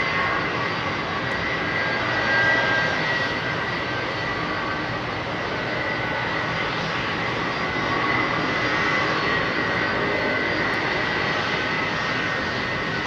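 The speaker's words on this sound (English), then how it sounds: "listen to this 767 creep into position" An old-school Boeing 767 with Pratt & Whitney engines creeps into position at Heathrow Airport, producing a loud, steady jet engine roar with a whining hum on top that holds evenly throughout.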